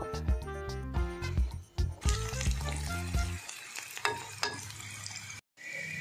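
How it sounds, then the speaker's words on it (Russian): Onions sizzle and crackle as they fry in a pan, close and continuous, with stirring and clattering of utensils, music in the opening seconds and a brief dropout near the end. "Лучок обжарился,"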